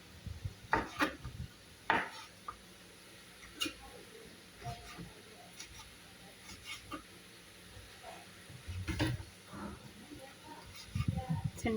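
Vegetables are chopped on a board in scattered, fairly quiet knife taps with irregular pauses between cuts.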